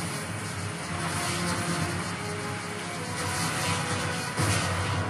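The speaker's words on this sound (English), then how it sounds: "Kill that freaking helicopter!" A helicopter in the video game Bulletstorm gives off a continuous, loud rotor and engine drone that holds steady throughout, with no talking over it.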